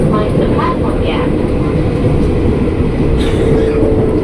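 A KRL Commuter Line electric train pulls into Juanda station on the elevated Manggarai–Jakarta Kota line, giving a steady close rumble with rail noise throughout and a few faint higher squeals above it.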